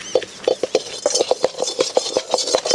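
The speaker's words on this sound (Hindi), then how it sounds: "अब तक तू बर्तन वही घिसा था" Metal dishes and utensils being scrubbed, a steady run of rapid scraping strokes with light metallic clinks, close and fairly loud with no talking.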